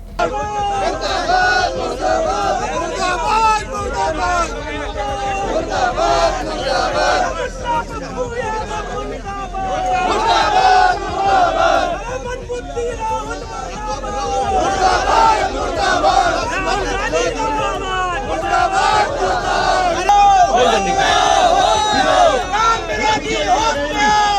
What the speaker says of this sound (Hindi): नारेबाजी की जा रही है।